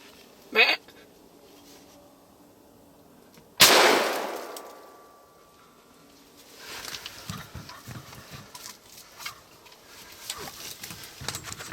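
A single loud gunshot rings out while hunting a buck outdoors in Alberta, a sharp blast with a decaying tail, preceded by a brief short knock and followed by rustling movement and faint talk.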